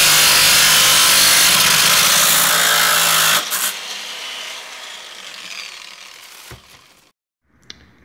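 Angle grinder slicing through a metal rod for a homemade car roof rack: loud, sustained abrasive whine for about three seconds, then the grinder spins down and trails off into quieter clatter and a couple of faint knocks.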